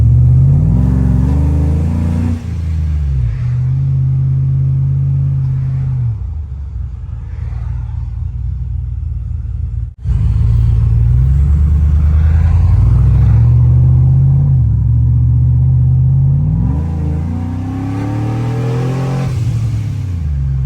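Turbocharged car accelerating hard at wide open throttle, engine note climbing through the revs in two long loud pulls with a brief gap between them, close and steady, no voices.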